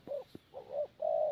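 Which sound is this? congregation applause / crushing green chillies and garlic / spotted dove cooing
spotted dove cooing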